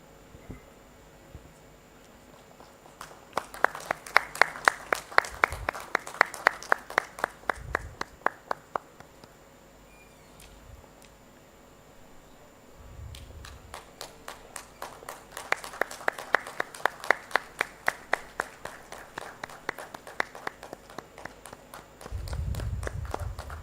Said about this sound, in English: I see a lot of applause from our dignitaries on stage